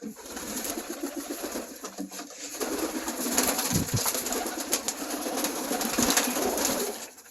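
Pigeons coo inside a loft, soft repeated throaty calls from several birds close by, over a constant bright hiss and occasional flutters and knocks.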